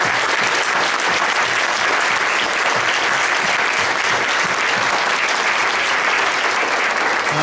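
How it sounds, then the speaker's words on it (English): An audience at a school fine arts night breaks into sustained applause, a dense, even roar of many hands clapping together that holds at full volume from start to finish. "we all would like to give her a big round of applause"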